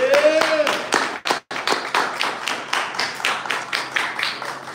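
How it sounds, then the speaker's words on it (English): A small group claps together in a short burst of applause during a strength-training event, sharp hand strikes pattering unevenly, with a whistle-like tone and a brief gap partway through. "Give yourselves a big round of applause"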